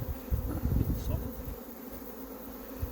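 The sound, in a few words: honey bees buzzing at the hive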